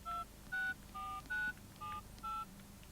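Telephone keypad tones beep six times in an even rhythm, each short dual-tone press clear over a faint background hiss.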